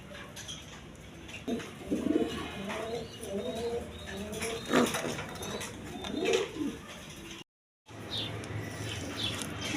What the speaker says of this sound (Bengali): এখানে এক পেয়ার রাসগোল্লা কবুতর দেখেন